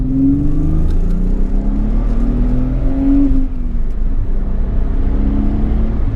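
A turbocharged 1991 Nissan Fairlady Z 300ZX Twin Turbo engine pulls hard and loud from inside the cabin, its pitch climbing through the gears with a steady, droning rush.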